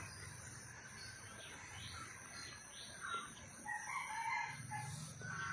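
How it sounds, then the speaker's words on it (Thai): A rooster crows at a distance, with another crow rising near the end, over steady cricket chirping and low background rumble. "เสียงก็ไก่ขัน"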